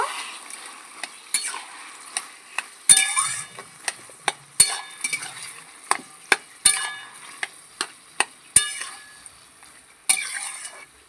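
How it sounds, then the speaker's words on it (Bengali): Taro leaves with slit green chillies are stirred in a pan with a spoon, giving a soft sizzle underneath and a string of sharp scraping clinks at irregular intervals, close by. "চিড়ে রাখা কাঁচা লঙ্কা সব দিয়ে ভালো করে নেড়ে নেব"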